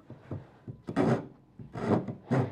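A hand saw rasps through wood in a home workshop while a wooden clothes drying rack is being built, giving four uneven bursts of back-and-forth strokes, close and fairly loud, with short pauses between them.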